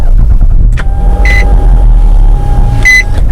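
A Nissan Maxima SR V6 engine starts up, with a short electronic chime before a steady low engine hum settles in and another chime follows near the end.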